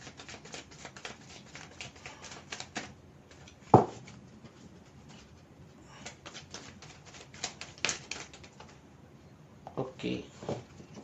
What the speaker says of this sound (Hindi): तो चलिए हम कार्ड्स को शफल करते हैं।